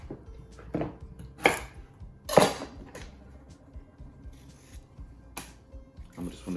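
A really sharp knife cuts through vegetables held flat on a cutting board while one-pot roast chicken and vegetables are prepared: a few separate crisp chops and knocks at irregular intervals, close by, with quiet handling noise between them.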